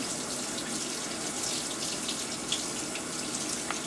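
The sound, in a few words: rinsing makeup brushes under running tap water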